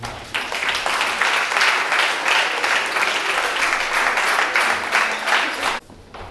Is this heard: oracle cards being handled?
no